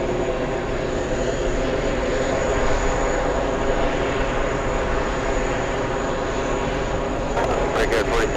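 An SAS airliner arriving from Copenhagen at JFK airport, a steady, loud jet roar heard from a distance, sustained without pause, with a few brief clicks near the end.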